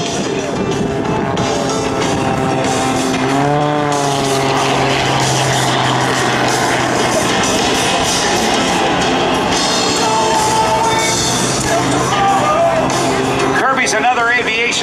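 An aerobatic propeller airplane from the Red Bull Air Force team flies slowly past an airshow crowd into a quartering headwind, its engine droning loudly and shifting in pitch as it passes, with an announcer talking over the engine.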